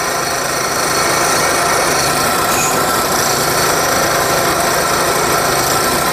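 Continuous, close abrasive rubbing of sandpaper against a motorcycle camshaft being ground to shape, a steady loud scratchy hiss with no pauses.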